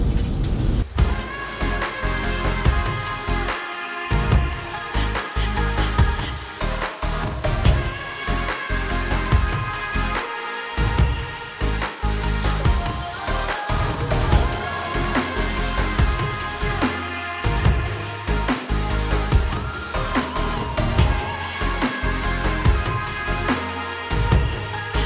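A rented camper van climbs a curving gravel mountain road at Hatcher Pass, Alaska, heard from inside as a constant loud engine drone with rattling, bumping and road rumble, and no voices.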